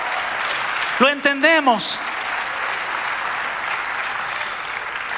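A church congregation bursts into applause: a single voice speaks a short phrase near the start, then a continuous, moderately loud patter of many hands clapping carries on steadily to the end.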